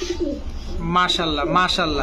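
Pigeons coo at a pigeon farm, with a couple of clear, throaty rolling coos close by while someone speaks briefly over them.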